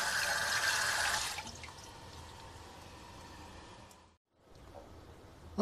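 Raw whole oysters being rinsed under a running kitchen tap: a steady, fairly close splash and patter of water that stops abruptly for a moment, then trickles on more quietly.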